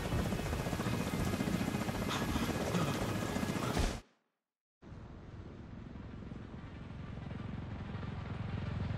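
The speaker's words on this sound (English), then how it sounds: "we need to get Chernenko on that extraction chopper now" An extraction helicopter in the video game The Division 2, at a Coney Island ballpark, roars with loud, dense rotor thrum, cuts to silence briefly midway, then returns slightly quieter and steady.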